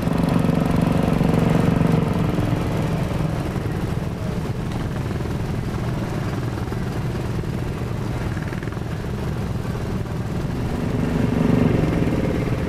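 Seven-horsepower Wheel Horse lawn tractor engine running, a continuous loud rough chugging drone held steady throughout without talk.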